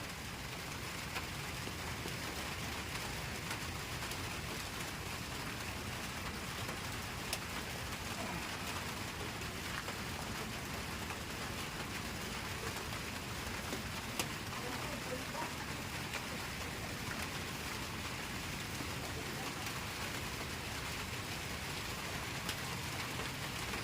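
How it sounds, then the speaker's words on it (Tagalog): Steady rain pours down during a mountain trek on Mt. Tapyas in Coron, Palawan, with a constant hiss of drops hitting surfaces, continuous and fairly loud throughout. "Basang-basa sa ulan."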